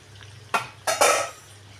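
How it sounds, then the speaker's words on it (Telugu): Prawns fry in a pan on a home stove, with a soft background sizzle broken by two quick bursts of a spoon scraping and stirring through them, close and brief. "మేడంకి రొయ్యలు చేస్తున్నాం కదండి"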